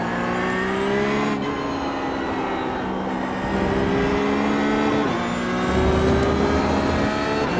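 A Porsche GT3 Cup race car engine in the iRacing sim, revving steadily with rising and falling pitch through throttle changes and gear shifts, loud and continuous with no talk.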